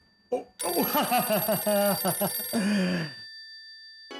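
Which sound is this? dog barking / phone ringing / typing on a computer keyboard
phone ringing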